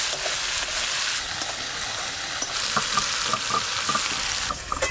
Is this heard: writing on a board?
no